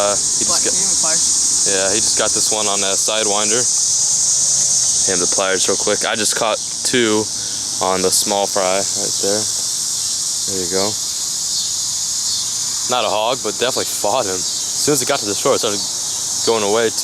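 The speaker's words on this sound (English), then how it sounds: "Just hear the cicadas right now." Loud, dense cicada buzzing by a lake fills the whole stretch as a steady high drone, with pulsing chorus swells rising and falling while people talk over it nearby.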